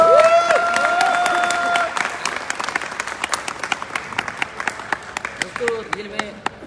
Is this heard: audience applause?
yes